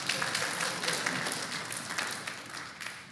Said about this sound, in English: Yeah, you're allowed to clap.